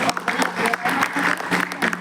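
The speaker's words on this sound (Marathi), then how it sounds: "एकदम जोरदार टाळ्या" Loud, sustained audience applause with dense clapping that fills the whole moment, with some voices mixed in.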